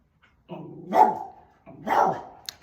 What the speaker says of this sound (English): He's barking at the reflection.